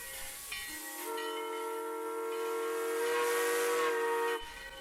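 A steam train whistle blows as a train departs, a long loud sustained tone lasting several seconds with a hissing rush beneath it, then breaking off abruptly.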